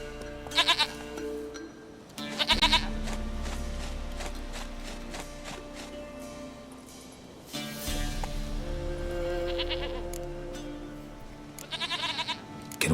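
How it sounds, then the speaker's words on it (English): Goat bleats ring out in short bursts, a couple of calls near the start and more toward the end, over a sustained tonal musical background. "Goat of mine, dearest,"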